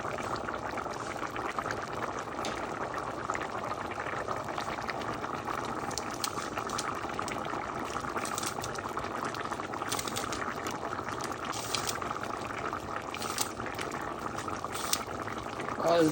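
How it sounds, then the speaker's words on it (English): A pot of Guyanese chickpea and potato curry simmers steadily, a soft continuous bubbling and gurgling that stays close and even throughout, with no talking over it. "I'm making sure the this is cooking down, almost ready. Nice potato with chickpeas curry."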